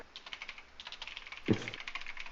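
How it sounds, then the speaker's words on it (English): Rapid, irregular clatter of keys on a computer keyboard during an online Dungeons and Dragons session, close and fairly quiet, with a louder thump partway through and no voices. "He's typing."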